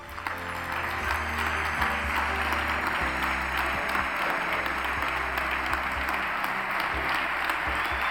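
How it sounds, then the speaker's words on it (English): Audience applause at the opening ceremony of a hand surgery and hand therapy congress, honouring the pioneers. Sustained, dense clapping from a large crowd fills the room steadily throughout, loud and even with no talk over it. "please stand and applaud for our pioneers"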